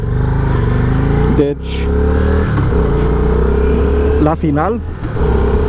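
An engine runs steadily after its carburetor has been adjusted, a loud, even idle with a firm low hum. Someone talks over it throughout.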